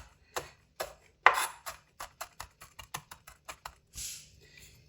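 Green chili is chopped into small pieces with a knife on a board, giving a series of crisp, close taps that speed into a quick steady rhythm, with no talking.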